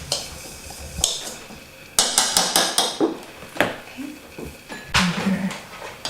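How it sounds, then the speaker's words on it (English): A whisk beating ingredients lightly in a bowl for a torte, giving a run of quick rhythmic clinking taps against the bowl in short bursts, with brief voice sounds in between. "I'm just going to lightly whisk up"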